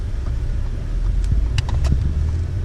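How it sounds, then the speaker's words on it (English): A supercharged V6 car drives along with a steady, deep engine rumble close by, no talk over it, and a few brief higher-pitched squeaks near the middle. "Supercharged V6."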